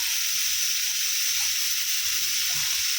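Bekua greens frying with mustard seeds and cumin give off a loud, continuous, even sizzle and hiss that fills the whole stretch without a break.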